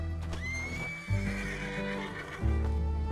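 A horse in the Western video game Red Dead Redemption 2 gives a single drawn-out whinny over heavy low rumbling and hoof clatter, close and clear.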